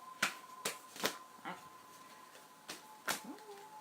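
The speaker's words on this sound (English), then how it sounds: "it is a bit of a nightmare to shuffle heart-shaped cards" Heart-shaped cards are shuffled by hand during a card reading, making a series of quiet, sharp riffling snaps spaced unevenly over a few seconds, faint and close.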